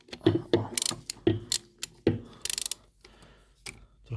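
Short ratcheting wrench strokes tightening a bolt during an oil change on a 2022 Suzuki GSX-S125 motorcycle, a series of close, brief metallic clicking bursts with pauses between them.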